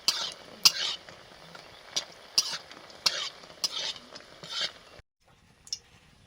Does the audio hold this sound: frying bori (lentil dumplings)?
yes